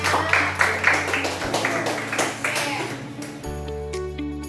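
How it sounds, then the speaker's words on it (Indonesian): A school class applauds classmates in a short burst of scattered, fairly close claps that taper off, with a steady electronic hum and tonal background noise underneath. "Oke, kita tepuk tangan buat temannya."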